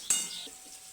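Chopped onion dropping into hot oil in a kadhai, with a sharp clinking burst at the start followed by a steady, fairly quiet high sizzling hiss that fades slightly over the second, with no talking.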